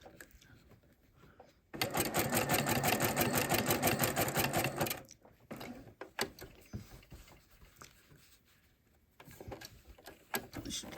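A sewing machine runs in one steady, loud burst of about three seconds, rapidly stitching fabric-wrapped rope trim, then stops; quieter handling clicks and rustles follow.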